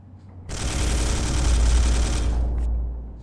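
One loud, sustained burst of storm bolter-style gunfire from the Space Hulk game roars for about two seconds with a deep rumbling body, then cuts off into a short fading tail, no talking.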